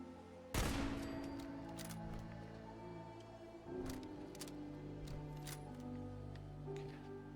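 Automated turret gunfire in Fallout 4's Far Harbor, opening with a loud burst followed by a second volley and scattered shots over steady game background noise, without speech.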